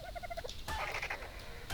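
A dodo bird in the game Ark Survival Evolved calls with a short run of repeated clucking, gobble-like notes, followed by a brighter, busier burst of game noise; no one talks.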